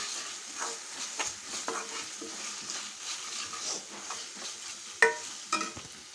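Onions fry with a spoon of ginger-garlic paste in a pan for a country mushroom curry, giving a steady close sizzle broken by the scrape of stirring and a couple of sharp utensil knocks near the end.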